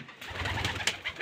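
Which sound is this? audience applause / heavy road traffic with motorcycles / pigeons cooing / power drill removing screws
pigeons cooing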